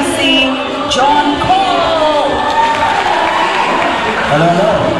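A concert crowd cheering and applauding, with loud whoops and shouts over a dense, continuous wall of clapping close by.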